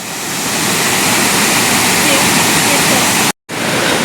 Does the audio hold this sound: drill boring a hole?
no